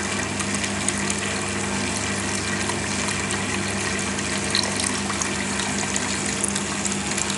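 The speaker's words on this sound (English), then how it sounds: "So now ethanol is getting filtered into the second section of the machine." Ethanol flows through a vodka filtration machine into its second section as a steady, continuous liquid rush with pump hum, even and unbroken throughout.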